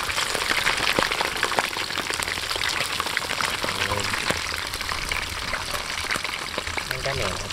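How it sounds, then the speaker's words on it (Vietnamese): Fish fries in hot oil with a steady crackling sizzle and dense spatter close by, as people talk over it. "Còn có mấy cái cá này chiên hết nó giòn nè."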